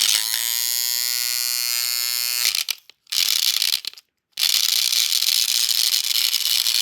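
A Thomas toy train with swapped wheels runs with noisy gears, giving a steady, loud electric-motor whine and gear buzz with rattling, briefly cutting out twice before starting again, close up and with no voices.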